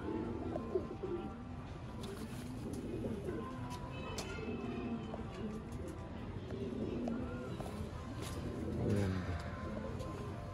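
Soft, repeated cooing of pigeons in a loft continues throughout at low volume, layered over a steady ambient hum with occasional faint chirps.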